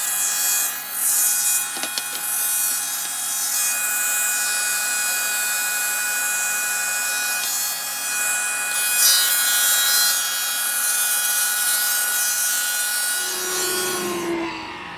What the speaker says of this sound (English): Now that little planer worked fantastic.